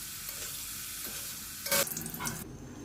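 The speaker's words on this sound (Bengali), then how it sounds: "বাকি পনিরটাও ভেজে নিচ্ছি" Paneer pieces fry in hot oil with a steady hiss, then a sudden louder burst of sizzling as more pieces drop in, easing off near the end.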